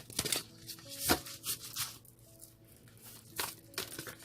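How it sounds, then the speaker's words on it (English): Oracle cards are shuffled in a handful of quick papery riffles and crinkles, close and moderately loud, with short pauses between bursts and no talking. "So one more shuffle they request."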